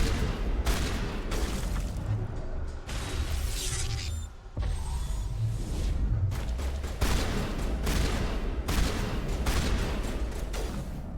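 Gunfire from the Mass Effect Legendary Edition video game: dense, sustained bursts of shots and booms layered over a steady rumble of battle noise, loud and continuous for the whole stretch, with no speech.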